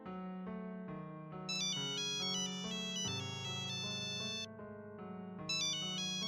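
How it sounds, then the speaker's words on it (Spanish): A mobile phone ringtone plays a bright electronic melody, repeating its phrase loudly and steadily with no talking. "Su teléfono móvil sonó"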